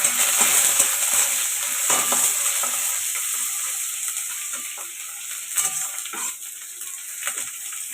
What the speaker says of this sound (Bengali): তারপরে দিয়ে দেবো পেঁয়াজ, দিয়ে দিচ্ছি লঙ্কা।